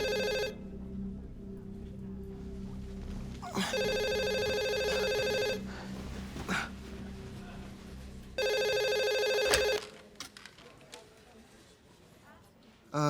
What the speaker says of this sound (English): Hey, the phone's ringing.